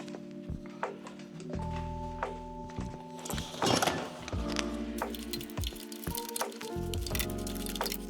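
Coolant drains from a radiator hose on a Mazda MX5 NB into a catch bottle, a continuous wet gurgling and splashing pour with small drips and cracks, moderately close.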